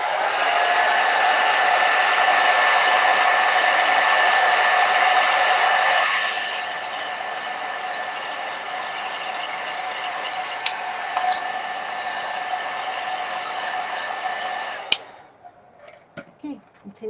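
A hair dryer blows steadily on a watercolor painting of grapes, a loud, even whir that drops in level partway through as it moves, then shuts off near the end with a few small taps.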